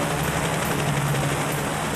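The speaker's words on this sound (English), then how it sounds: "SWAT helicopter inbound." A loud, steady whir of a video game SWAT helicopter's rotors in Payday: The Heist fills the whole stretch, a dense continuous roar with no voices.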